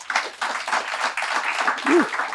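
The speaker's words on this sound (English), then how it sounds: "Big round of applause." An audience claps after a startup pitch at a tune-up event. The round of applause is close and busy, with uneven bursts of hand claps and some voices mixed in, and a brief tonal sound near the end.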